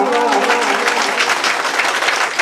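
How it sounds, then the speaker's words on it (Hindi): Loud, dense applause from a large crowd at a Hindi poetry recital, continuous clapping that fills the whole stretch. "इसलिए जोरदार तालियां"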